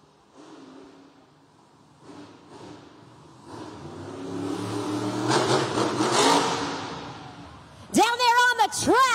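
The Monster Jam truck Dragon revs its engine in an indoor arena, a roar that swells and holds, then a sharp, wavering, siren-like tone near the end, all loud and echoing.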